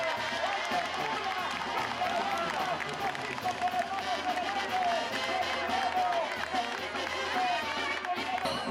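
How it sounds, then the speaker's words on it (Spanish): Crowd applause and cheering at an outdoor event in Talpa, Jalisco, steady and dense throughout with a busy murmur of voices underneath. "fuerte el aplauso"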